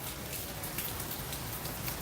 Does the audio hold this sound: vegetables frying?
no